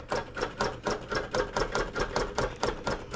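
A quilting sewing machine stitches down a quilt in a steady rapid rhythm of mechanical thumps, about four per second, close and moderately loud with no talk.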